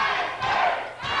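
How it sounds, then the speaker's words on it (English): A crowd at a professional wrestling match featuring the national heavyweight champion shouts and cheers in a brief, loud roar that swells twice. "And the crowd here cheering on as the national heavyweight champion tries to dictate the pace."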